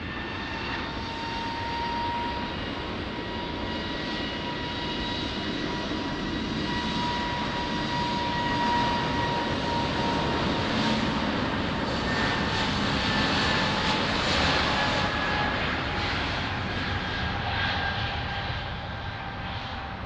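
Airliner engines roar steadily at Lisbon Airport, a loud sustained jet drone with whining tones that swells slightly mid-way, continuous throughout with no talk.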